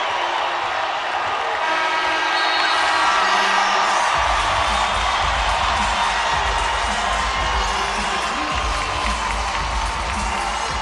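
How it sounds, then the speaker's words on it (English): A large basketball crowd roars and cheers inside the Pan Am Center arena in Las Cruces during an NMSU Aggies game, a loud, dense wash of noise that holds steady throughout with a heavy low rumble building after the first few seconds. "Listen to this crowd at the Pan Am Center in Las Cruces."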